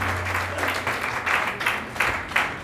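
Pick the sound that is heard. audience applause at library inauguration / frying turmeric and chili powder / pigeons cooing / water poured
audience applause at library inauguration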